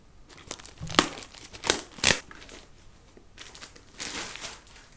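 Crinkling thin plastic wrapping around a motherboard box being handled and pulled open, a few sharp rustling bursts spread over several seconds, close by with no talking.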